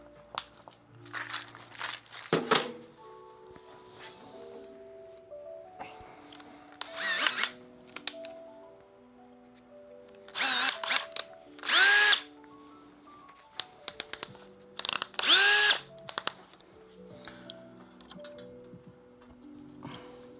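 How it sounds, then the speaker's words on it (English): Power drill boring into a surface to mount a fan, several loud bursts of whirring separated by pauses, the motor revving up and down close by with faint clicks between runs. "And start drilling away."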